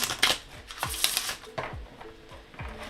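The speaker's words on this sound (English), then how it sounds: "you can always shuffle them this way, side by side" Large tarot-style reading cards are shuffled side by side, with four or five crisp riffling bursts in a steady rhythm, each closing on a soft thump, close and fairly loud with no talking.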